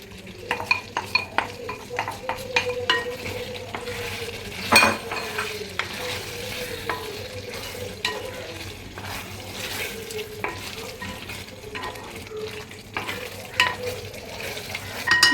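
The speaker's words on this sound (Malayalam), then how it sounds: "നമുക്ക് ഇതിലേക്ക് വറുത്ത് വെച്ചിരിക്കുന്ന ചാള ഇട്ട് കൊടുക്കാം" Fried small sardines stirred into a pan of pickle masala, a low sizzle under frequent spoon scrapes and metallic clinks against the pan, fairly close.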